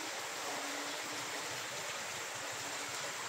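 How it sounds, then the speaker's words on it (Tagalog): A river in Candaba, Pampanga, running high with floodwater, gives a continuous faint rushing, flowing wash with no voices over it. "Ito po yung ilog oh."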